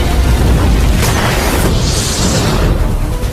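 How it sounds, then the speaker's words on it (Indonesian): A loud, sustained explosive roar from an animated fantasy battle, with rumbling low end and crackling bursts, staying intense throughout with no pause. "Nili mengeluarkan ledakan yang 10 kali lipat menyerang Raja Iblis"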